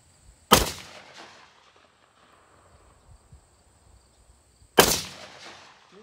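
Two loud gunshots at an outdoor shooting range, spaced about four seconds apart, each with a short ringing tail over a quiet background of insect chirping.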